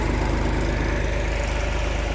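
A tractor engine idles at about 10 throttle while driving a 55 kVA PTO generator that powers a 15 hp submersible well pump, making a steady, loud, even drone throughout with no voices.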